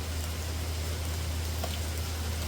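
Rain falling outdoors during maple syrup making beside a cast iron wood stove, heard as a steady, loud, even wash of hiss with a low hum underneath throughout.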